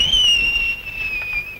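A loud, sustained high whistle on a steady, slightly wavering tone, held alone for over a second without a break.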